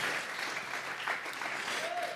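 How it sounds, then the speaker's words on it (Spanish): A church congregation at a Sunday service claps together in worship as an offering to God, a sustained wash of many hands clapping at a moderate distance, with faint voices mixed in. "Vamos a regalarle ofrenda de palmas al Dios de la gloria."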